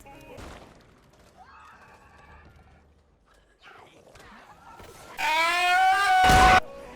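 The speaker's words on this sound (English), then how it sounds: "if you alert it by attacking it or getting too close, it will let out a scream which alerts the horde of common infected" A Snitch infected in the video game Back 4 Blood lets out a loud, harsh scream near the end, rising sharply over quieter game ambience and scattered mechanical sounds.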